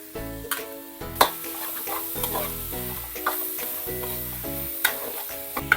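Five tomatoes tumble into a hot pan while pampano fish cooks, giving a steady close sizzle with repeated spoon scrapes and clinks as everything is stirred.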